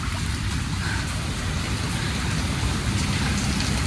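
Rain falls on a New York street as a dense, steady wash of patter with a low rumble beneath, continuous and close.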